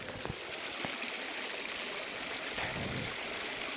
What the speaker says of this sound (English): this river is flowing much quicker than it was yesterday now